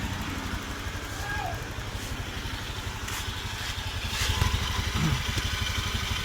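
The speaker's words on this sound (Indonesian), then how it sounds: "Biarkan di sini motornya masih menyala." A Honda Beat scooter engine idles nearby with a steady low rhythmic putter, set for an air-filter check on a scooter that bogs and sputters, with light clatter and faint background noise over the whole stretch.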